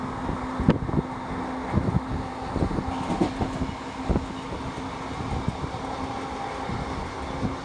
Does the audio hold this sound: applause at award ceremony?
no